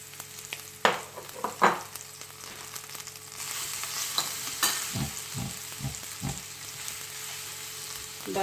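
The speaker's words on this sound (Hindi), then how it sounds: "अब इसमें ये क्रश किया हुआ गार्लिक ऐड करूँगी" About a tablespoon of crushed garlic fries in hot oil for chicken chow mein, a loud close sizzle broken by repeated spoon scrapes and knocks against the pan.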